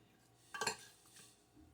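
A short burst of utensil scraping and clinking as mackerel is stirred with black pepper and paprika in a dish around the middle, then quiet, with a sharp clink at the very end.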